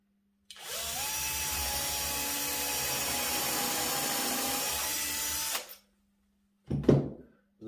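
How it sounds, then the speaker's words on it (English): A power drill with a countersink bit whirs steadily for about five seconds into reclaimed timber for a spiral end table, then stops, followed by a short knock or clatter. "And then I used a countersink bit."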